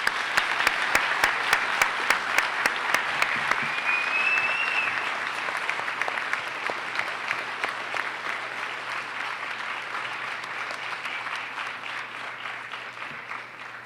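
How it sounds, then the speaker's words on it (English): School audience at a middle school Veterans Day ceremony applauding veterans, sustained crowd clapping from a large room that gradually fades, with some sharper individual claps early on. "Please join me in a round of applause for these wonderful veterans."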